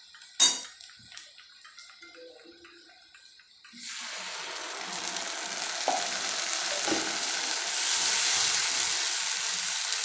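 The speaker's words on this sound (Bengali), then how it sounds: "এবার আমি পেস্ট করে রাখা মশলা দিয়ে দেবো।" A few light clinks of a utensil against a pan come first, then onion and spice paste lands in hot oil and a strong, steady sizzle builds and keeps going to the end.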